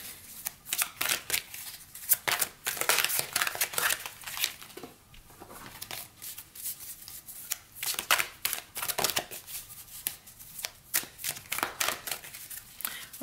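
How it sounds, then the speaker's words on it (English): Tarot cards being shuffled by hand, a long run of quick crisp riffling bursts in irregular rhythm, close to the listener with no talking. "I'm going to shuffle."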